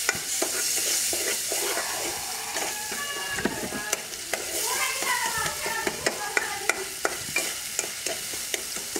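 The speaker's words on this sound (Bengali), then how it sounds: "মশলা কষিয়ে নিচ্ছি" Turmeric, chili and salt powders stir-fried in oil in a pan, sizzling steadily while a utensil scrapes and clacks against the metal in repeated sharp strokes, close up and with no talking.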